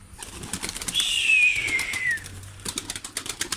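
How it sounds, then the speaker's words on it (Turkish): Rapid flapping of a young Hilf Sider pigeon's wings close by, a fluttering burst, with a thin descending whistle in the middle and more wingbeats toward the end. "Nasıl tok sesli kanat seslerini duyuyor musunuz dostlar?"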